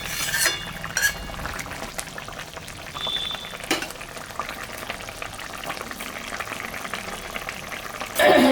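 Fish broth for a poppy-seed puti fish curry bubbling in a pot, a steady soft simmer with occasional clinks of utensils and a brief sharper rattle near the end, no talking.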